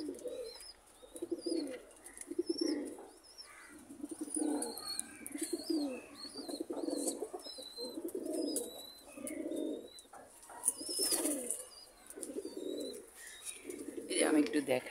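Pigeons feeding alongside chickens coo again and again in a steady run of low rolling calls, close and clear, with small bird chirps above and a voice speaking now and then.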